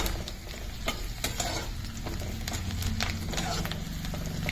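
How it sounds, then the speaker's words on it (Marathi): Chopped garlic fries with onion in a pan, giving a steady, close sizzle with scattered crackles and spoon stirring clicks throughout. "तर आता लसूण परतला जातोय चांगला हे पहा"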